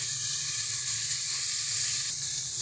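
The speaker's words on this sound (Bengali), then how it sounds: "টমেটোটাকে ভালো করে যতক্ষণ না নরম হচ্ছে ততক্ষণ একটু কষিয়ে নেব" Chopped tomatoes sauté in a hot pan for a fish curry, giving a steady, close sizzling hiss that stays even throughout with no voices.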